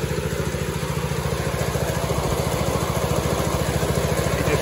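A commercial Snapper mower engine with a slipping drive disc runs at a steady idle, a close, loud, rapid mechanical chug with a faint rattling clatter and no voices.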